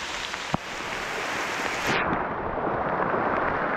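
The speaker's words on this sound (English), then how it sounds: "It's raining hard." Heavy rain pours steadily beside a Pennsylvania trout stream, a dense continuous hiss that swells slightly louder partway through, with a sharp close tap early on.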